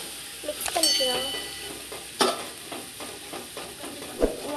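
A spoon works through a 1 kg mutton biryani mixture in a pot, giving a soft sizzling stir with several distinct metallic knocks and clinks against the vessel, close and moderately loud, with no talking.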